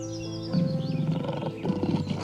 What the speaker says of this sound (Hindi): इतने में ही वहाँ एक बाघ आ जाता है, जो बहुत ही खतरनाक होता है।